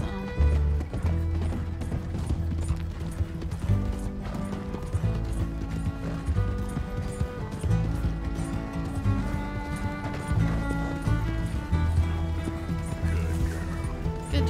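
A horse galloping in the video game Red Dead Redemption 2, rhythmic hoofbeats thudding steadily under game music with occasional snorts, loud and close throughout.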